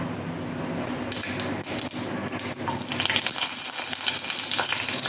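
Cumin seeds crackle and sizzle vigorously in hot oil in a pot for dal tadka, a busy frying hiss with stirring clatter that gets louder toward the end.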